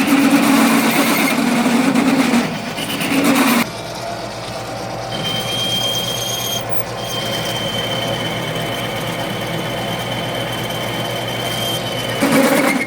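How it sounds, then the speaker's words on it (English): Steel is drilled with an oiled drill bit, a steady mechanical whir and grinding that shifts in pitch partway through, with a brief louder stretch at the start and end. "You're drilling the steel, you use a little bit of lubricant"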